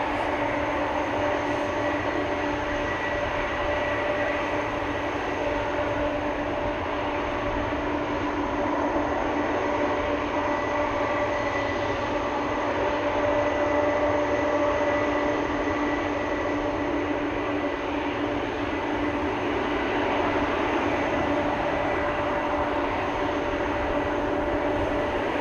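A Boeing 767 jet takes off at Amsterdam Schiphol Airport, a loud, constant engine roar with steady tonal whine persisting throughout, unbroken by speech.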